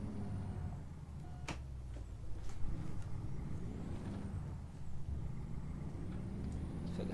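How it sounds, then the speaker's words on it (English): A truck passes on a road in American Truck Simulator, its engine rumble steady and fairly close under constant traffic drone, with a brief air-brake hiss near the start. "Let's wait for that truck to go by."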